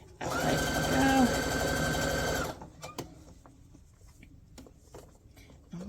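Sewing machine running steadily as it stitches fabric for a memory pillow made from show shirts, a loud continuous hum that stops after a couple of seconds, followed by quieter handling noises.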